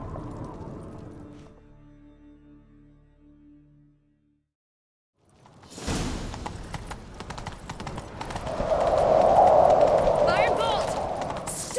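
Hoofbeats clip-clop in a video game chase as riders set off after a fleeing man, building from about six seconds into a steady, busy gallop mixed with game noise and a loud swell near the end, following earlier quiet talk.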